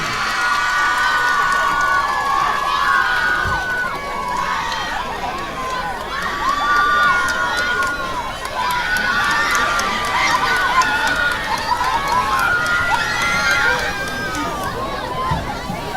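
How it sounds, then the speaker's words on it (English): A stadium crowd at a high school football game cheers and shouts for student representatives, a sustained roar of many voices with occasional higher yells and little distinct clapping. "Let's give a round of applause to our sophomore representatives"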